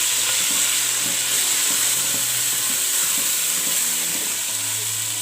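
Chicken chow mein being stir-fried with garlic powder in a pan, a loud continuous sizzle and hiss with faint rhythmic scraping of a utensil underneath, no one speaking.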